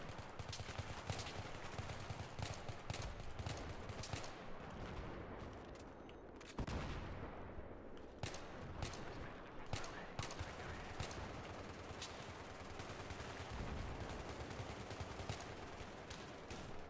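Rapid bursts of automatic gunfire crackle through a Battlefield 3 firefight, sustained volleys and single cracks layered densely over a continuous combat din, with one brief lull midway before the shooting resumes.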